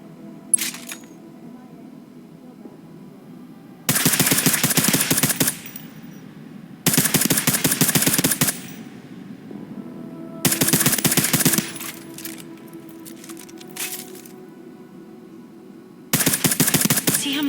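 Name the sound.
silenced machine gun firing at video game shooting range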